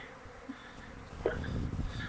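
Honeybees buzz faintly at an opened hive in a spring apiary, a low soft hum joined near the end by closer handling noise and a brief voice.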